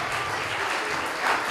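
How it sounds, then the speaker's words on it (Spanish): A church congregation at a children's anniversary service claps loudly together, a dense continuous wash of applause filling the room throughout. "Denle un aplauso fuerte al Señor."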